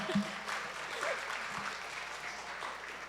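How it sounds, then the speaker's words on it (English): An audience in a chapel at a youth service claps for a performer, a steady wash of moderate applause throughout, with a few louder clatters near the start. "Please give him another round of applause"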